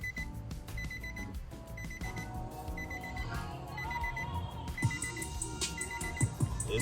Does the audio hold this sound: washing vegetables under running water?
no